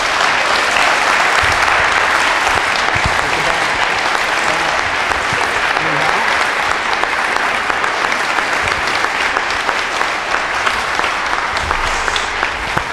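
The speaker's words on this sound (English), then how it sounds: "How about a big round of applause for our star?" Full, energetic applause from an audience, an unbroken roar of clapping that holds at a strong, even level for about thirteen seconds, with no speech over it.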